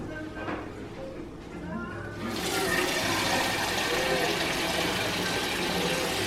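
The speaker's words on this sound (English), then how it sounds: "So now you're gonna get some cold water and add to it." Cold water is poured in, starting softly and then becoming a loud, steady rushing flow, with faint voices at the start.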